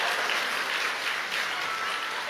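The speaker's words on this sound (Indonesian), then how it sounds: "kasih tepuk tangan aja buat Tuhan yuk" A church congregation applauds together at a worship service, a steady, dense wash of clapping that holds at an even level throughout with no voices over it.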